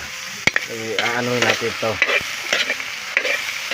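Chunks of meat stirred in a hot pan as they render and fry in their own fat, steady sizzling with scraping spoon strokes, close and fairly loud, with a brief spoken remark partway through.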